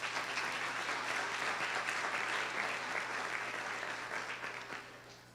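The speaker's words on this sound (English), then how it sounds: "Let's give them a round of applause." Sustained applause from a banquet audience, a dense steady patter of clapping heard from a distance that fades gradually toward the end.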